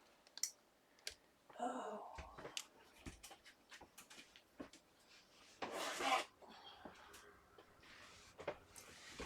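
A large plastic bag, the kind paper storage bins come packed in, crinkles and rustles as it is handled, with scattered clicks and louder crackling bursts at close range.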